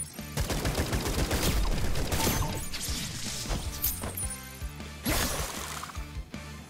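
Automatic cannon fire from a tank in the Atomic Picnic shooter, loud bursts of shots and crashing impacts layered over game music, with a fresh heavy burst near the end.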